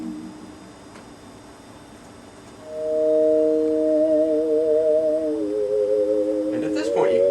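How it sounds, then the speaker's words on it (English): Synth sample built from resonating glasses, a nearly pure sine-like tone that swells in midway and holds steady in layered pitches, with a faint shimmer toward the end. "it still sounds like almost a sine wave, but you can hear a little bit of resonance in there of the glasses"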